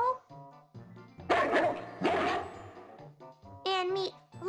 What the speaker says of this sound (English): There's no possible way that any dog's bark would carry all the way to the top of Big Ben